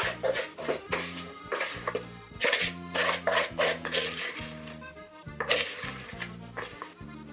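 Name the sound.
mixing egg yolk and sugar mixture into whipped cream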